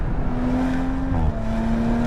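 Audi RS5 engine droning steadily from inside the cabin, its tone dipping briefly mid-way as the gearbox makes quick shifts, then holding a constant hum under road noise.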